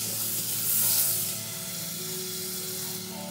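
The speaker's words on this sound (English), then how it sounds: "so I get my butter going, pans a little hot" Butter sizzles steadily in a hot old-school pot on the stove as mac and cheese is started, a continuous close frying hiss with no talking.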